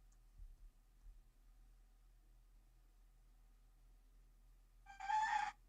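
A rooster crows once near the end, a loud harmonic call after a long quiet stretch with only faint hum and a couple of soft low thumps.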